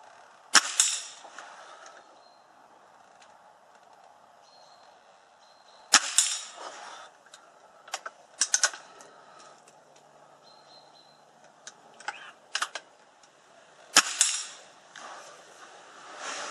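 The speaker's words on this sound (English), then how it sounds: "There we go, 3 shots." Three sharp shots from a tuned Sandwell Field Sports Walther LGU air rifle firing Air Arms Field Express pellets outdoors, evenly spaced several seconds apart, each a crisp crack followed by faint pellet impacts, with quiet background between.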